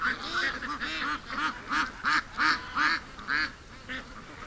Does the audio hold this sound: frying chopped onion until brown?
no